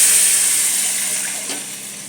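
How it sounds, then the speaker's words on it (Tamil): Churned buttermilk poured into a hot pan over tempered dals and spices gives a continuous rushing hiss, steady and close, fading slightly as the pour goes on, with no voices. "இப்போ நம்ம கடைஞ்சி வச்ச மோரை இதில் ஊற்றிக்கலாம்."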